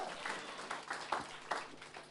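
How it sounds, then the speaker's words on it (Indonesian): Church congregation claps faintly during a sermon, scattered distant applause with a few louder individual claps in the room. "Berikan tepuk tangan buat dia."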